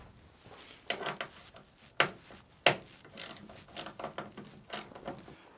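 Two 8mm bolts being loosened and backed out of the tail light mount on a 2020+ Jeep Gladiator JT, giving quiet mechanical ratcheting and clicking with a few sharper metallic ticks, close up and with no talking.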